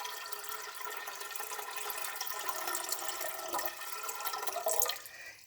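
Tap water pours steadily into a pot as a continuous broadband splashing rush, close and fairly loud for about five seconds before easing off at the end.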